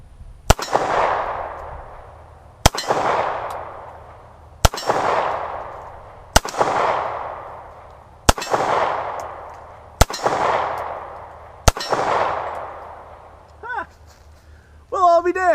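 A gun works through a full magazine of old brass-case ammunition, firing seven loud, sharp shots at slow, even intervals of about two seconds, each one ringing out with a long echoing decay before a brief voice near the end.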